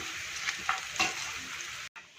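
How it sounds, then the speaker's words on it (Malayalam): Onion and Kashmiri chili tempering sizzles and crackles steadily in a pan with the heat switched off, with a few brief louder pops, and no talk; the sound cuts out near the end. "ഉള്ളിയും മുളകും താളിച്ചത് നമുക്കിതിലേക്ക് ചേർത്ത് കൊടുക്കാം"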